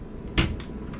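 A closet door aboard a 2004 Johnson 87 yacht opens with a short close clack followed by a softer second knock, set against quiet room ambience.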